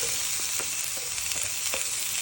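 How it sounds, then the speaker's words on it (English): Garlic browns in a pan over an open fire, giving a steady, soft frying sizzle with faint scrapes and stirring ticks spaced through it, no voices. "So I'm just going to brown the garlic, prevent it from getting bitter"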